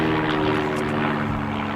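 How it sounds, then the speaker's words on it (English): A small propeller aircraft drones overhead above a garden, a steady buzzing engine hum that holds loud and constant throughout with no voices. "Planes going overhead,"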